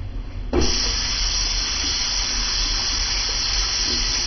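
Tap water runs steadily into a sink while product is rinsed out of hair, a constant hissing splash starting abruptly after a brief quiet moment and continuing close and loud.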